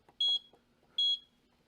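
A heat press timer gives two short electronic beeps about a second apart as it is reset, clear over faint background noise.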